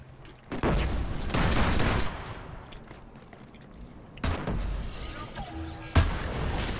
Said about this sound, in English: I love this freaking pistol.